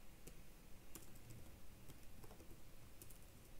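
Quiet, irregular keyboard typing on a computer, a scatter of soft clicks and taps over a low background hum.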